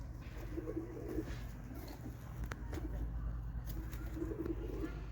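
Soft, low Turkish racing pigeon coos repeat in short bursts over a steady background hum, moderately close.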